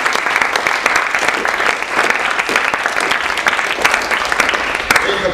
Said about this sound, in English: I think we all owe a huge round of applause to Thayer and to Carla Cook, because